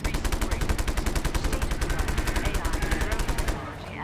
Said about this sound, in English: This gun isn't quite working for me.